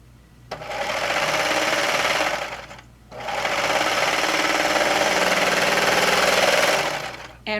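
A serger sewing machine runs steadily while stitching a knit shirt sleeve, two loud sustained whirring bursts with a brief pause between, close up and without talk.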